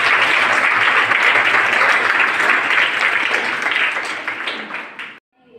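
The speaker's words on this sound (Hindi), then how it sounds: "तो तालियों से आप स्वागत कीजिए।" Students at a school motivational class clap together in welcome, dense loud applause filling the room steadily before tapering slightly and stopping abruptly near the end.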